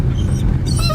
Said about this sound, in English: she just screams her little doggy mouth off